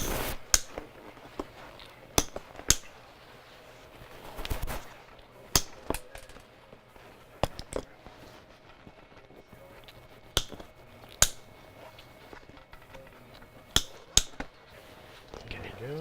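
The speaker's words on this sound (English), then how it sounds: "we're going to take a pair of snips and we're going to work our way down, cut the hog rings off" Snips cutting metal hog rings off Jeep Wrangler seat foam during an upholstery install, a scattered series of sharp, close snaps spaced irregularly over quiet background.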